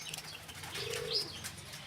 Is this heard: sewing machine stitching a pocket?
no